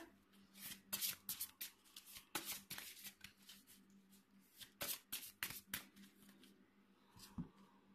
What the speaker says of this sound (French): je remélange les cartes